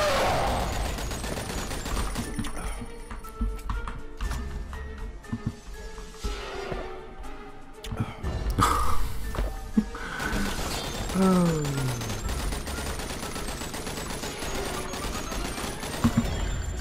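Gunfire and explosions in a shooter video game set in hell: a dense, continuous barrage of rapid shots, crashes and effects plays throughout, loud and layered.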